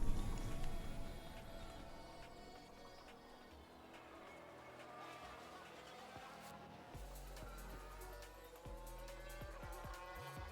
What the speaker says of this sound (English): Sounds like a spin.